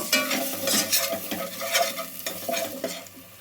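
Ginger garlic paste fries in oil for a chettinad-style chicken gravy with a loud, crackling sizzle. Repeated stirring strokes scrape through it in an uneven rhythm, and no voice is heard.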